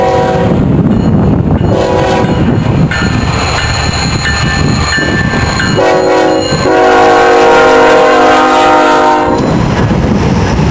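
A westbound BNSF mixed manifest freight train rolls past Waylong Siding near the Tehachapi Loop, loud and close for the whole stretch, with steady rumbling wheels and a sustained tonal horn blast rising in the middle.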